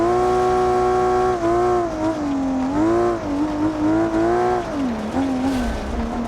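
An all-wheel-drive car on racing slicks makes a hot lap in the BeamNG driving game, its engine loud and close, pitch climbing and dropping with repeated gear changes and revving.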